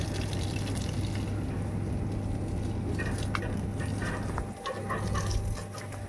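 A water sprayer fed from a garden supply washes a motorbike, giving a steady, close hiss of spray with a low hum running underneath, briefly dipping near the end.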